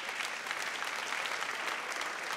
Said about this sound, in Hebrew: מחיאות כפיים לכל מי שעדיין פה